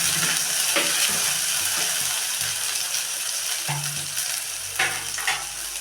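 Frying in a pan with turmeric and salt for palak bread upma gives a steady close sizzle, broken by repeated scraping and tapping of a spoon as it stirs, with no speech.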